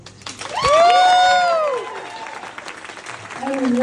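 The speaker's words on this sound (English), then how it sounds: "Round of" A crowd at a Jack Rabbit Slim's-style twist contest event breaks into applause and cheering, with a loud rising whoop standing out over the crowd noise before it settles down.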